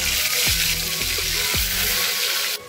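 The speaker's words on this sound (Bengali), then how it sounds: "এবার আমি এই হলুদ মাখানো আলুগুলো দিয়ে ভেজে নেব" Steady hiss and sizzle of turmeric-coated potatoes frying in hot oil, with a few clinks and scrapes of stirring over the crackle, then it abruptly cuts off.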